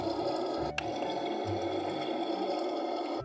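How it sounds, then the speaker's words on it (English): Bathtub jets churn bubbly bath water in a steady, busy gurgling rush with a faint mechanical whir underneath, continuous and moderately quiet. "Now let's turn on the jets."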